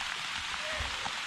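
Steady rain patters on surfaces at a jungle campsite in Panama, a soft, even wash of drops with faint low rumbles and no distinct voices.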